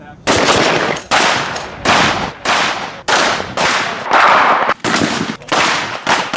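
Rapid bursts of gunfire ring out on a police academy shooting range, a series of loud, sharp volleys in quick succession with brief gaps between strings of shots, close and dominant throughout.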